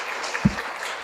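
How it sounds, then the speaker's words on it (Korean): A short, faint patter of audience applause at a Korean education forum session, soft and brief with one slightly louder clap near the middle. "I think that deserves an applause."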